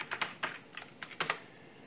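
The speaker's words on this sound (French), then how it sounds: "Je vais voir si je tape tutoriel." Someone typing on a computer keyboard, a short burst of light, irregular key clicks heard close up and fairly quiet.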